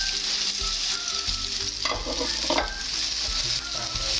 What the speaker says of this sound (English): Just let the pan get nice and hot again and just pop them inside